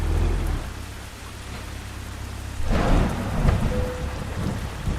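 Steady rain patters in a truck driving video game, then a deep rolling thunderclap rumbles in close and loud partway through, with the rain continuing beneath it.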